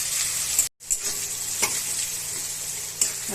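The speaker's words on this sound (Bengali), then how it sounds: "এখন মশলাটা সুন্দর করে ভাজা করে নেব।" Spice paste with chopped tomato, salt, turmeric, chili and cumin powder frying in a pan: a loud, continuous hiss with a few light utensil scrapes and one brief gap near the start, no voices.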